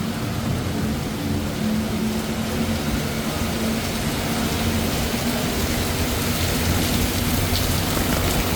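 Heavy monsoon rain pours down on a Bangkok street at night, a dense, constant hiss of drops on surfaces with faint low rumbles beneath and no voices.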